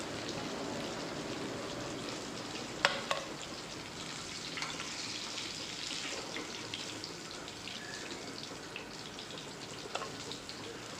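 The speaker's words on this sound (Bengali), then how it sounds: "এবারে এই মাছগুলোকে আরও জাস্ট কিছুক্ষণের জন্য ভেজে নেব, বেশিক্ষণ নয়।" Katla fish pieces frying in oil, a faint, steady, continuous sizzle with a couple of sharp clinks, no talk.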